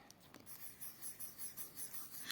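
A pen scratches across a surface during a magic trick, making soft continuous scribbling strokes in a quick rhythm, faint and close, with no speech.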